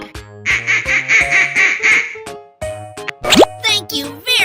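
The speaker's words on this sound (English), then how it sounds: "Duck." A cartoon duck quacks in a quick rhythmic series over bouncy music, followed by a child's laughter and playful sound effects.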